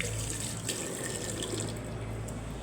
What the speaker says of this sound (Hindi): उसमें पानी माशाल्लाह बहुत अच्छा आ रहा है